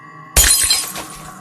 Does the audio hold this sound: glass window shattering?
yes